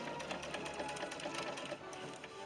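Sewing machine running steadily as it stitches black fabric for a doll's dress shirt, a continuous close mechanical whir with fine rapid needle ticks throughout, no voices.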